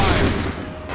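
A gunfire volley in Assassin's Creed 3 lands as one loud, dense blast of overlapping shots that fades across a single second.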